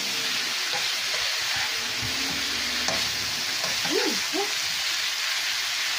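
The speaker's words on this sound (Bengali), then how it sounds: "ফুলকপি আলুটা আমি ভেজে নিচ্ছি হালকা করে" Cauliflower and potato lightly frying in a pan for a village-style hilsa fish curry, a steady close sizzle with occasional stirring scrapes and soft bubbling pops, no talk.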